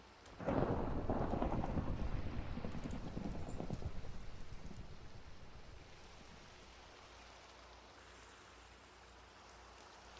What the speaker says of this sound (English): Lightning storm.